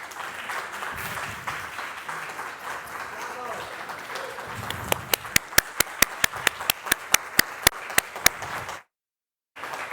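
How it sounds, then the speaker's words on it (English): A church congregation breaks into full, dense applause. It thins into a run of loud, evenly spaced single claps near the microphone, then cuts abruptly to silence. "We really need to applaud Sean and Abby Allison."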